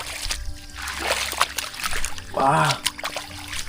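Rainwater trickles and splashes along a rural road after a typhoon, a soft steady flow heard close by under intermittent talking.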